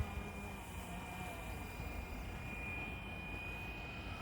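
A FLYWING Bell 206 remote-controlled helicopter flies at a distance with a faint, steady buzzing hum and whine over windy outdoor background noise.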